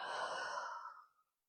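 One long, breathy exhale during Pilates lateral breathing, close and soft, tapering away into silence.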